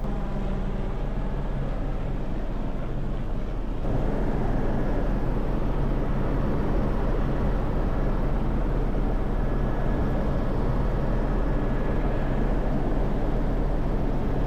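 A helicopter on an island tour over Hawaii fills the cabin with a loud, steady rotor and engine roar that stays continuous throughout, with no talking.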